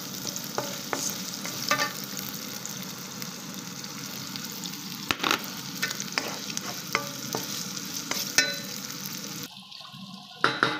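Meatballs and hotdog fry in a pan with a steady close sizzle, punctuated by scattered clicks and scrapes of stirring, and a brief softer change near the end.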